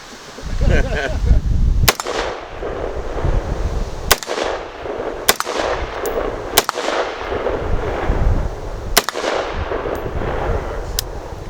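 An XM177 CAR-15 rifle fires six loud, sharp single shots at irregular intervals, each crack followed by a brief echo, while people talk and steady background noise runs underneath.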